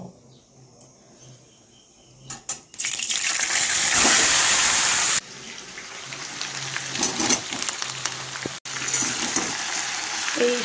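Marinated food sizzles and fries in a pan with no water added, a hissing crackle that surges loudly for a few seconds, then settles into a quieter steady sizzle.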